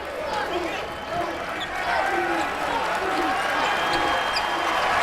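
A crowd at an NCAA tournament basketball game between Michigan and Florida roars steadily in the arena, a broad sustained wash of cheering that swells slightly, with a commentator's voice speaking over it.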